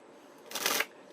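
A single quick false shuffle of a deck of playing cards, a soft burst of riffling lasting about a third of a second, close and alone against quiet room tone.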